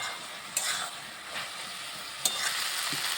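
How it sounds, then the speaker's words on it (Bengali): Potatoes stir-fried with bakphul (hummingbird tree) flowers in a pan, a continuous sizzle broken by a couple of sharp spatula scrapes and clanks, close and alone. "এবার আলুটা দিয়ে ভালোভাবে কষিয়ে নিচ্ছি"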